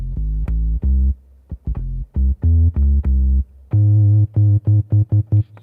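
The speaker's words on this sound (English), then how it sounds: "That's my bass, and it's gonna sound like this." Bass line programmed on an Akai MPC 500: deep, loud synth-bass notes in a choppy rhythmic pattern, short stabs and longer held tones separated by brief silences, alone with no voices.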